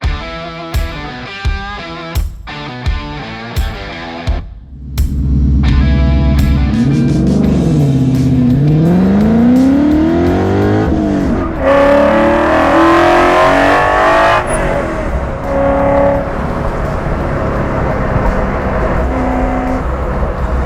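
A 1967 Shelby GT500 Eleanor V8 starts with sharp blips, then revs hard and loud through 6,000 RPM upshifts, the pitch climbing and dropping between gears under a constant near roar.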